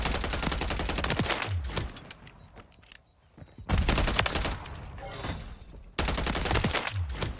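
Rapid automatic gunfire from a first-person shooter match in Modern Warfare III, loud bursts of fire with a short pause before the shooting resumes in dense, sustained volleys.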